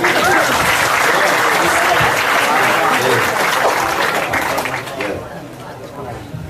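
A crowd at a gathering applauds loudly with mixed voices and chatter in the background, the clapping dense at first and then thinning and fading toward the end.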